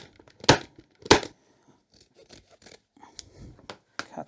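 Scissors snip through dining chair upholstery fabric on a 1970s chair, with two sharp, loud cuts early on followed by softer, scattered rustling and smaller snips.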